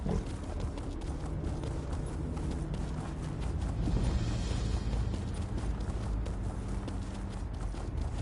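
Horse hooves clip-clopping at a steady walking rhythm in The Elder Scrolls Online, moderately loud and continuous, alongside game ambience and no talk.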